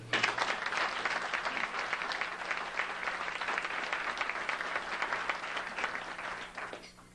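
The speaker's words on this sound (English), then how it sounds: "I want to have a round of applause for Rich and the Founders Committee for putting this together" An audience at a founders' lecture applauds steadily for about seven seconds, a dense, sustained wash of many hands clapping that holds level before tapering off at the end, with no talking over it.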